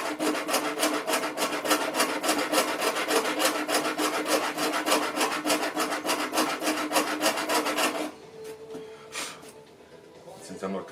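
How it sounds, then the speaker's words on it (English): A small hand saw cuts along a marked line in quick, even back-and-forth rasping strokes that run steadily for several seconds before stopping, leaving a quieter room. "I'm using one of these little hand saws instead of a machine"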